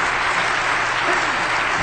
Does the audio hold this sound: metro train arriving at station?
no